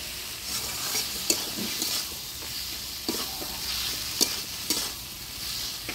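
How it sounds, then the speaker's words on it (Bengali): A paste of ground spices mixed with water, turmeric and salt fries in a pan while being stirred for a village-style ghugni. A close, continuous sizzle is broken by regular soft scrapes and knocks of the spoon. "সব মশলাপাতি ভালো করে কষিয়ে নিলাম"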